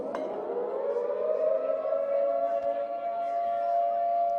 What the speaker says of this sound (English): as the siren is about to get us underway